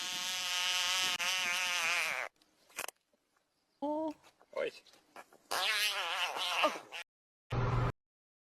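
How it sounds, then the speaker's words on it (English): Several toads call in the rain while being poked, a compilation of bleating, buzzing croaks in short separate bursts with silent gaps between them, close and fairly loud. "it's a type of toad in the rain, being stimulated by someone either like poking it"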